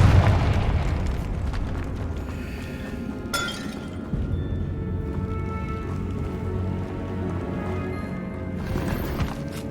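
A Confringo fire spell bursts with a loud blast in Hogwarts Legacy, followed by a crackling, rumbling tail that fades gradually, with a sharp crack midway and another near the end.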